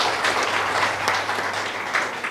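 Audience applause at a book launch in Anantapur, a steady dense clapping from a crowd held at an even level throughout, with no voices over it.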